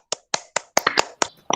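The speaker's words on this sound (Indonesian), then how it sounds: "Tepuk tangan dong semuanya." In a classroom, students clap for a classmate with a few sharp, separate hand claps, close and loud, falling into an uneven rhythm with short gaps between them and no talking.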